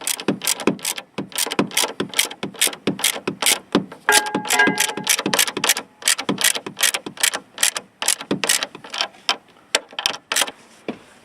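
A wrench ratchets a shock absorber bolt tight on a 1975 Corvette, giving a long run of crisp, close clicks in quick, uneven strokes that pause briefly midway, loud and clear with no talk.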